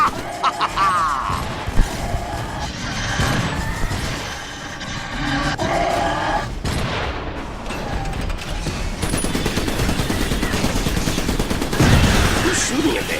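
Dense gunfire and explosions from the video game Iron Brigade, beach stage, with sustained rattling bursts and rumbling blasts, loud and continuous, while a player talks over the action.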